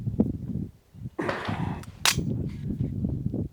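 Bolt catch and bolt release on a Global Ordnance Monolith rifle being worked, giving a couple of sharp metallic clacks and a slide, close and loud, with no talk.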